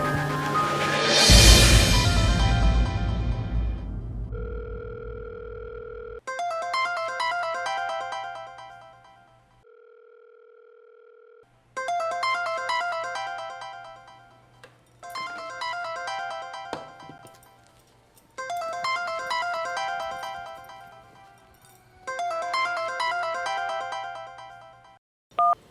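A telephone ringtone sounds in repeated bursts, loud and close, separated by short pauses, after a brief noisy start and a steady tone.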